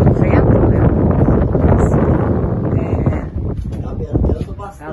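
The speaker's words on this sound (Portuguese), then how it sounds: "Tá ventando bastante. Possa ser que vocês não nos ouçam." Strong wind buffets the microphone outdoors on a rural hill by a grotto, a loud continuous roaring rumble that eases slightly toward the end, with people talking under it.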